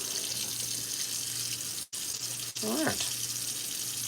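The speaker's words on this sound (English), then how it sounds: "Let's get some hot water going." Hot water runs steadily from a tap into a sink, a constant close hiss that pauses briefly, with a few spoken words over it.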